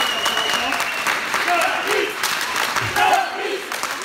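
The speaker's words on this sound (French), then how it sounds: "Merci pour tous les applaudissements." An audience claps in a handball gymnasium at the first official league match of the season, a dense, steady wash of applause with some crowd noise that holds at an even level throughout.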